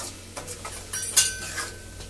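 Spoon clinking and scraping in a pan while soya chaap masala with green coriander and salt is mixed, a few quick metallic clinks under a low hum, close and moderately loud, no voices.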